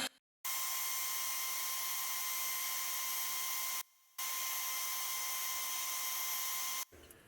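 Heat gun warming the ends of rubber fuel hoses during a fuel pump swap on a Mazdaspeed car, a steady whining blower hum running in two long bursts with a brief pause between.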